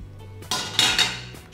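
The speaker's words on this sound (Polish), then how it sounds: "Wsypuję zamrożony jeszcze szpinak." Frozen spinach tipped into a pan for a cod sauce gives a brief clattering, scraping rush lasting about a second, close and fairly loud with no talk.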